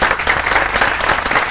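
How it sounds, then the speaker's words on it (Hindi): Children clap together in a loud, close burst of applause during a value-based education session, a quick patter of many small hands with no talking. "तालियां बजाओ।"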